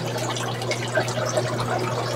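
Water drains out of a container of tubifex worms in a steady low gurgling rush, moderately close, with a constant hum underneath and no speech.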